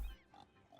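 Pigs grunt in a farm area of the city-building game Cities: Skylines Industries DLC, a single short oink-like grunt heard alone and fairly faint.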